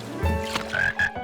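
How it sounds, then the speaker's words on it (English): A cartoon frog at a pond gives a few close, distinct croaks, spaced in an uneven rhythm, standing alone with no talk. "Look, George, a frog."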